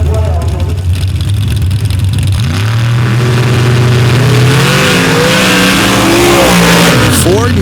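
Ford and Chevy S10 super stock drag cars launch side by side at a Paducah drag strip, loud engines roaring and climbing in pitch as they pull away. An announcer talks over the racing.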